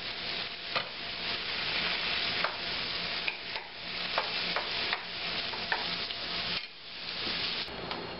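Onions, garlic and sliced Roma tomato sautéing in a pan for green chile enchiladas: a steady close sizzle with frequent stirring scrapes and clicks of a utensil against the pan, no talking.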